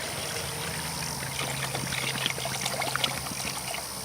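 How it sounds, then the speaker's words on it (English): About a gallon of water pours steadily into a container being filled for hydro dipping a fishing reel, a continuous close splashing trickle with small irregular bubbly bursts over a steady hum. "we're gonna go ahead and put our water in here."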